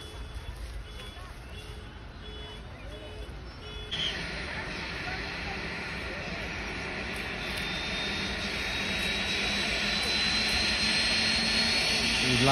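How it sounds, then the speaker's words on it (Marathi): A helicopter's loud engine whines and builds steadily at a temple inauguration, its roar swelling as it powers up for takeoff, with voices faintly underneath. "आणि इथून आता हेलिकॉप्टर उडणार।"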